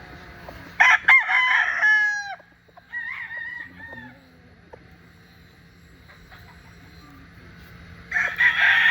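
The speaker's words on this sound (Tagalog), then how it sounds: "ito naman yung tatlong cock na napili natin para sa Tuesday sa CSA, sa palaban ni Palintimong" Gamecocks crow loudly and close by: one full crow near the start, followed by shorter calls and clucks, a quiet stretch, and another crow rising at the end.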